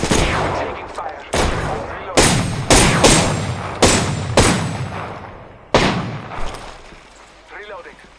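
Repeated gunshots from weapons in the video game Apex Legends, roughly eight sharp, loud blasts at irregular intervals, each with a short decaying tail, and quieter chatter in the final second.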